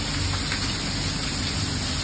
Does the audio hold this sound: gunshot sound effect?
no